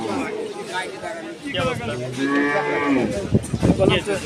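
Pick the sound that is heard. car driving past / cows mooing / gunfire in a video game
cows mooing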